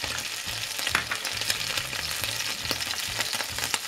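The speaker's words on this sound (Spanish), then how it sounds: "Lo volvemos a poner a fuego fuerte y vamos a añadir a la sartén el puerro" Chopped leek added to a frying pan of hot oil over high heat, giving a steady, close sizzle and crackle with some stirring noises, with no talking.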